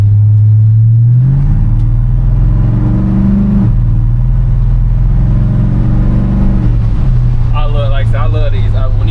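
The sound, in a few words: 1986 Chevy C10 truck with LS swap engine revving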